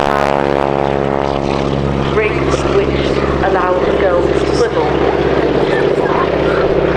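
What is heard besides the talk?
Stearman biplane Pratt & Whitney engine, supersonic propeller rasping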